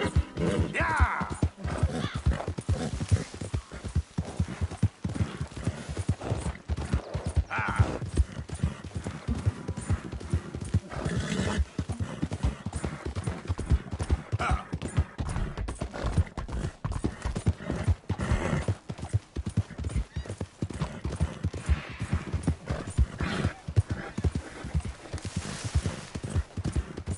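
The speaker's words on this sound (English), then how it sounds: "That's a fine horse." Horse hooves clip-clopping at a steady, rhythmic pace in Red Dead Redemption 2, close and continuous, with an occasional whinny mixed in.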